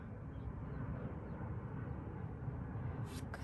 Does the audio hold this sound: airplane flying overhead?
yes